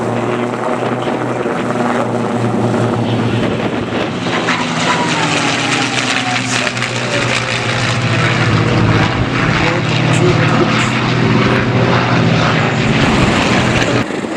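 A P-51 Mustang propeller aircraft flies at the Duxford Flying Legends airshow, its engine a loud, steady drone that swells as it passes, with an announcer talking over the noise.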